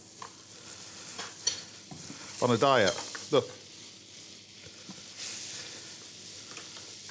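Pan frying in a knob of butter, a low steady sizzle with a few scraping stirs of the pan in the middle, while someone talks over it.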